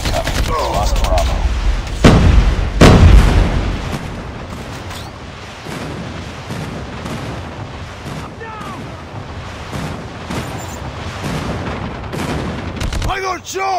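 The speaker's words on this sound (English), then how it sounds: "Friendly airstrike incoming." Video game battle with an airstrike: heavy booming explosions early, then dense bursts of gunfire continuing throughout, loud and close, with voices calling out over the action.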